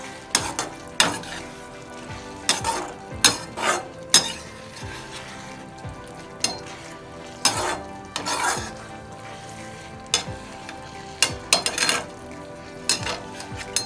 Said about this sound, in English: give it a nice stir until the entire gravy is applied on this